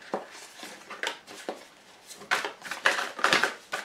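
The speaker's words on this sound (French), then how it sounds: "je fais tomber tout mon jeu. Alors, attendez, je ramasse" Tarot cards clatter as a whole deck is dropped and gathered back up, a run of light slapping and shuffling taps close by, busier and louder toward the end.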